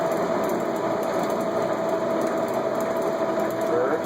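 A Monarch 20 x 144 engine lathe spindle runs steadily with a continuous mechanical whir and high whine, a constant close hum at even loudness throughout.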